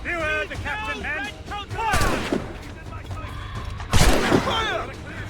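Musket volley fire in the video game Assassin's Creed Rogue: loud booming shots and crackling gunfire bursts, with a big blast near the end, under shouted voices and battle commotion.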